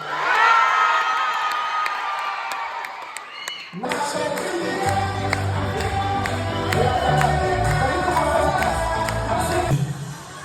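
Audience at a dance gala, loud cheering and whooping that swells into a dense crowd roar with applause, steady and energetic throughout.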